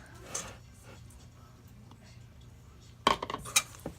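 Vegan pumpkin pie dough is stirred in a bowl, with soft muffled mixing followed by a cluster of sharp utensil clinks against the bowl near the end; quiet and close.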